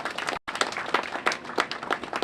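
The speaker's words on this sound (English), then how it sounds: "I think they deserve a big round of applause" A crowd at a formal event applauds a financial institution with loud, continuous clapping. Individual claps stand out in a steady stream, broken once by a very short dropout.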